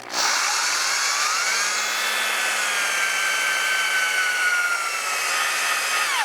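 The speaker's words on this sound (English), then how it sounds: "the oil pressure actually putting a load on the drill itself" A power drill whines steadily and loudly, turning a 1958 Plymouth engine's oil pump, its pitch sagging slightly and then holding as it strains under the oil pressure load, with no voices.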